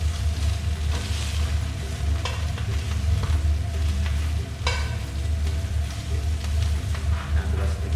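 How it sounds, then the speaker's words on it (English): Kale sizzles and fries in a very hot pan, a loud, continuous crackling hiss with occasional stirring scrapes, close up and steady throughout. "You can hear it sizzling."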